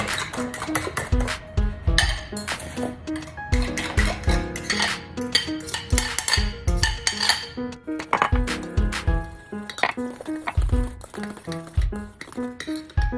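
Beaten eggs are stirred into warm sausage grease in a pan, with a utensil clinking and scraping against the metal in quick, uneven rhythmic bursts, close and clear.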